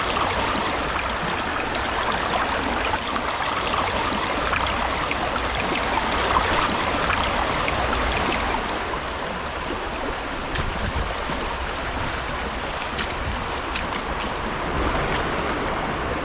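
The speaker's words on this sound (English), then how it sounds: "the sluice is just not running right" River water rushes steadily through a gold prospecting sluice set in the stream, a dense, continuous wash of splashing flow that stays close and loud, with no talk.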